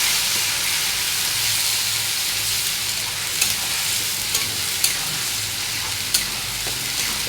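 Ginger, garlic and onion paste fries in a pan with browned onions, making a continuous close sizzle broken by several sharp clicks of a spoon stirring against the pan, with no talk.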